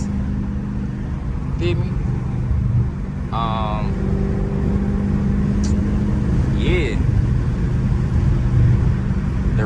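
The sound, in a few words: catless widebody Dodge Scat Pack exhaust pops and crackles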